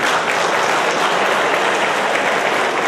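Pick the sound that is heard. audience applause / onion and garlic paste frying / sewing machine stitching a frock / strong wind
audience applause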